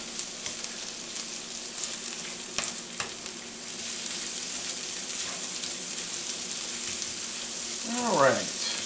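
Minced onions and thinly spread meatloaf hash fry in a pan with a steady, close sizzle, a few sharp clicks of stirring near the start, and a short voiced murmur close to the end.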